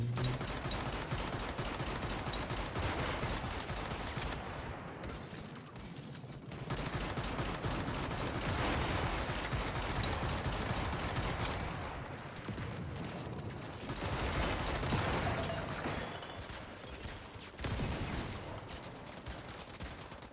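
Rapid, continuous gunfire from the shooter game Once Human crackles in long dense bursts with brief pauses, loud and near, without talk.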